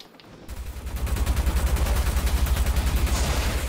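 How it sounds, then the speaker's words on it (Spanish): In the Watch Dogs video game, an enemy opens up with steady rapid automatic gunfire. The dense rattling burst is loud and close and builds over a few seconds, with no talk over it. "Acá me está disparando este."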